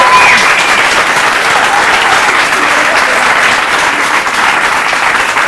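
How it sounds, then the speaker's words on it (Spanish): Loud, dense audience applause at a dance event, steady and continuous clapping from a large crowd close by, with no talking over it. "Un aplauso para ella."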